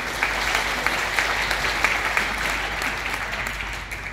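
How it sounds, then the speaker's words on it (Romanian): An audience at the opening of a recycling plant in Buzău applauds visiting colleagues from Slovakia, a steady wash of many hands clapping at moderate distance, uninterrupted and without talk. "vă rog aș ruga să le aplaudăm"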